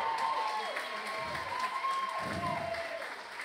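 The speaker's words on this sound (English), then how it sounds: "A round of applause." Fairly faint audience applause and light cheering at a burlesque strongman show, honoring a couple's wedding anniversary, with a voice and a tonal whistle-like sound running over the clapping.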